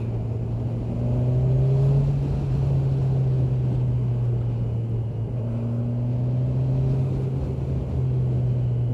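Motorcycle accelerating along a road in the Netherlands, a steady loud engine drone with rising pitch as it speeds up, close and continuous with wind noise and no talking.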